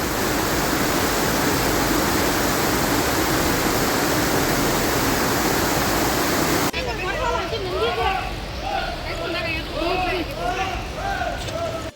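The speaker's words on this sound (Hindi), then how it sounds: "फिलहाल तो ये बहुत सुंदर झरना है।" Kapildhara waterfall pours with heavy flow, making a loud, dense, continuous roar that fills the first part before it drops back under a crowd of voices.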